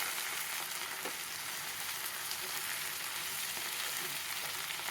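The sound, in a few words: fish frying in coconut oil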